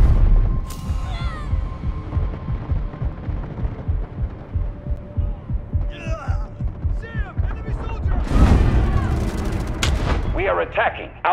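Rapid gunfire from a weapon in the Delta Force: Hawk Ops shooter game, a dense, steady stream of punchy shots with low throbbing booms, growing louder and busier toward the end.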